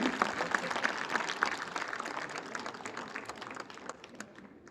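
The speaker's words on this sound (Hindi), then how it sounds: "जोरदार तालियों के बीच में" At an official ceremony attended by a chief minister, during a memento presentation, a crowd breaks into hearty applause, dense overlapping claps that start strong and gradually thin and fade over nearly five seconds.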